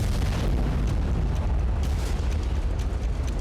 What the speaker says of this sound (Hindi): इजरायल की मिसाइल गिरी और जोरदार धमाका हुआ।